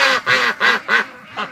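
Pekin ducks in a barn quacking close by: five loud, raspy quacks in a fairly regular rhythm, each about a fifth of a second long, the last slightly softer.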